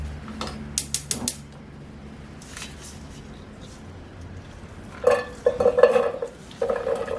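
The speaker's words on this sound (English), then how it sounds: "I saute them in olive oil." Carrots and celery being sautéed in olive oil in a pot, with a utensil stirring and clanking against the metal: bursts of scraping and knocks, a quieter stretch, then more stirring and rattling near the end.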